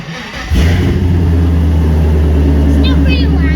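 A Toyota Prius swapped with a 5.3L engine fires up and settles into a loud, deep idle with exhaust cutouts closed, routed through the mufflers; a steady heavy rumble holds throughout with brief voices near the end.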